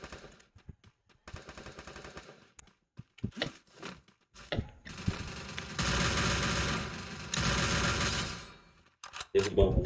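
Automatic gunfire from a battle royale video game crackles in bursts, starting with short, scattered shots and then building into long, sustained volleys, with a voice talking in the background.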